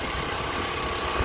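Scooter engine running nearby in a traffic jam, a steady low idling drone with slight vibration, no talk.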